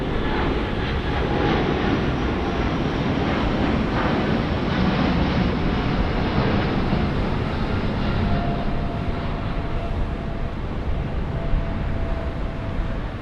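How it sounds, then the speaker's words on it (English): A Cebu Pacific Airbus A330-900 airliner at Sydney Airport makes a steady, loud jet engine roar that holds evenly throughout, with no voices. "Here's a wonderful looking aircraft, an absolute perler. 330-900 there from Cebu Pacific."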